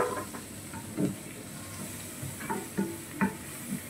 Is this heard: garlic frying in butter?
yes